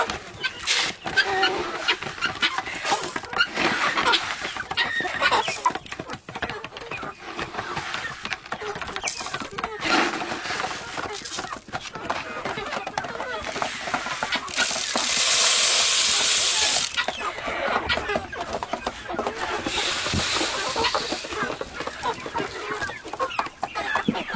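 Chicks, ducklings and a rooster in a farmyard at night give repeated clucks and peeps over a continuous hissing background, with bursts of louder noise and a person talking softly in between.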